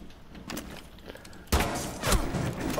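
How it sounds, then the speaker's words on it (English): Gunfire in the shooter Rainbow Six Siege: faint muffled shots early, then a sudden louder volley of close bursts with thuds, ringing on amid background game noise. "Why are you shooting me?"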